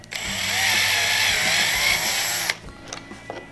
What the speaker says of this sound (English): turn it around and drill from the other side too to clean up the back side